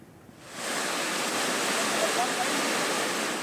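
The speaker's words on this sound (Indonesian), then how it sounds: "Banjir bandang akibat luapan sungai menerjang Kabupaten Mamasa, Sulawesi Barat." A flash flood from the overflowing Nosu and Sausiwi rivers in Mamasa, West Sulawesi, roars as a dense, continuous rush of water. It swells in within half a second and then stays loud and steady, with no talking.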